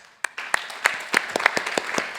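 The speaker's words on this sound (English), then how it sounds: "let's give Rainer Sternfeld a big hand and applaud for joining the stage" Scattered audience clapping greets a speaker joining the stage at an AI trends event in Helsinki; about eight sharp, separate claps spread across a couple of seconds, with no sustained ovation.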